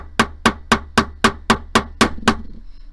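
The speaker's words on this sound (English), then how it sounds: "hammering with my chasing hammer." Chasing hammer flattening wire for hammered geometric earrings, nine sharp metallic strikes at a steady, even rhythm, close and loud, each ringing briefly before the next blow, with no talking.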